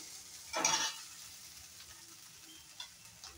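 Turmeric is dry-fried without oil in a pan for a vegetable soup. One sharp, loud scrape of stirring comes first, then a soft sizzle continues quietly with a faint clink near the end.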